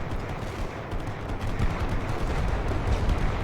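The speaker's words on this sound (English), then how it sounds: "That was some pretty effective rifle fire we've got going here." Rifle fire in The Great War: Western Front, a World War I trench battle: many rifles crackle in rapid overlapping volleys, dense and continuous with distant booms, without speech.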